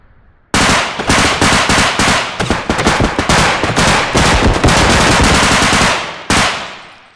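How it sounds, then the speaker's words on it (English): Loud, sustained automatic gunfire from the video game BodyCam fires in long, rapid bursts of dense sharp shots, close and dominant, with a brief pause before a final short burst. "That was a crazy little gunfight."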